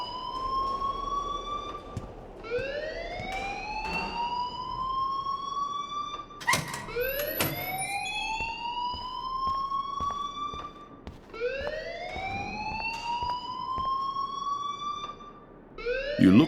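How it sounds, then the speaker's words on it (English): A loud alarm wails nonstop in the game Life Is Strange, each tone sweeping upward and then holding before the next rising sweep begins, with faint background noise and a few sharp clicks mixed in. "please turn off that alarm since that's your job."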